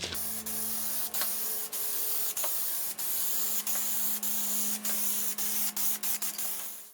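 Spray can hissing steadily as it lays light clear coat passes over a car hood, continuous close spray with brief breaks between passes.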